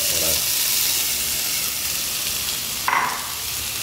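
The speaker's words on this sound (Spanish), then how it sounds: "Vertemos un poquito de aceite de oliva y añadimos la cebolla morada." Red onion sizzling in olive oil in a pan, a steady close broadband frying hiss that runs throughout, with a brief louder clatter near the end.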